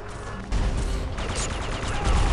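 Three-round burst fire from a gun in the video game Red Faction 2, with loud, clipped bursts of shots in quick succession over a continuous game soundscape.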